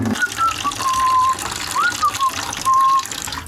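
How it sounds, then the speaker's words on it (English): Water gushing and hissing loudly out of a well-water UV system housing as its O-ring is loosened, a forceful continuous rush with whistling squeals, close to the listener. "I'll start messing with this O-ring and water's gonna start to shoot out"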